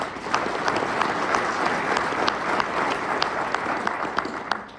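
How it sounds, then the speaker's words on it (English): Audience applause at an engineering awards lunch, a steady roomful of clapping with distinct sharp claps popping out above the wash, moderately loud and sustained without speech. "Round of applause for Eli"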